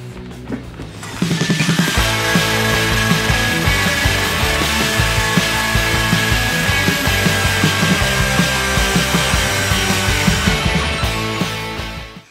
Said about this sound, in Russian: Так, давайте попробуем полировать.